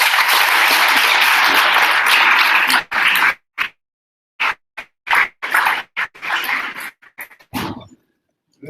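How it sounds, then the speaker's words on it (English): A conference audience at a university event applauds in a dense, loud burst for about three seconds, then the clapping breaks into scattered, isolated claps and trails off. "Let's give her one more round of applause."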